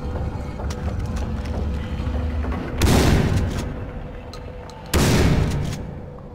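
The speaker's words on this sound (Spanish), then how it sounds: "Son dos balazos bien pegados de este y no hay problema" Gunfire in the video game Far Cry 3: two loud, sharp shots about two seconds apart, each followed by a short decaying boom over a low game ambience.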